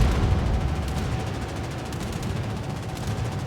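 Warship guns fire in a naval combat video game, a continuous rumbling barrage of rapid low thuds and crackles, loud and sustained without pause.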